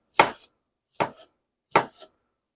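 A knife cuts through hulled strawberries on a board for a strawberry rhubarb pie, three crisp, evenly spaced chops about three-quarters of a second apart, close and clear with quiet between them.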